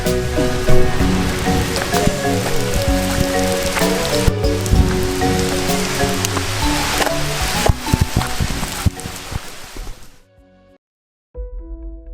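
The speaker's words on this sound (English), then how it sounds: "there is hail coming down right now" Hail comes down hard during a severe storm at Kinzua Bridge State Park, a loud, dense patter of stones striking surfaces that cuts out briefly near the end and then resumes.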